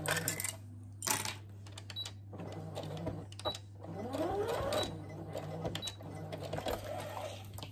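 Sewing machine stitching a seam along the edge of a fabric project bag, quick uneven bursts of mechanical needle clatter with pauses and a soft whirring sweep, heard up close over a steady low hum.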